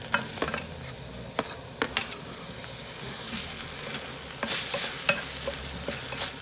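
Chopped tomato, onions and ginger garlic paste sautéing in oil for a soya potato gravy, a soft steady sizzle broken by several sharp clicks of a spoon stirring against the pan.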